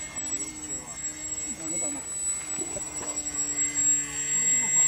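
A homemade electric radio-controlled model airplane flies nearby with a faint steady high motor whine, while people talk over it throughout.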